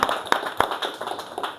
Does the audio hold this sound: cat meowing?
no